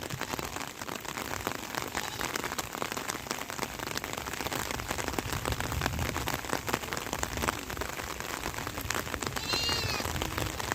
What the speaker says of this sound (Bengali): বৃষ্টি পড়ছে আপনারা দেখতে পাচ্ছেন যে বৃষ্টি পড়ছে